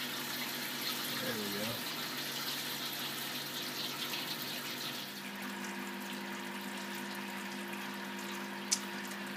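Tap water pours steadily into a mash tun for home-brewing a New Zealand IPA, a continuous broadband rush with a faint hum that keeps going throughout, plus a single small knock near the end.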